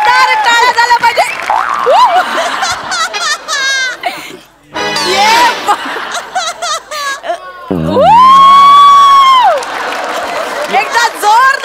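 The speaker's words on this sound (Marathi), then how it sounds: "एकदा जोरदार टाळ्या झाल्या पाहिजे." A comedy show audience claps and cheers over music and a host's speech, with a sustained sung note from a performer, loud and busy throughout.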